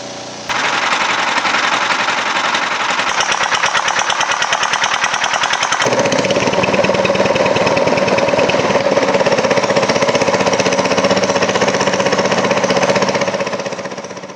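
A small peque-peque (rabeta) motorboat engine on the Amazon makes a loud, rapid, steady thumping chug with a machine-gun-like rhythm. Its tone shifts partway through and it runs continuously for over ten seconds before fading slightly.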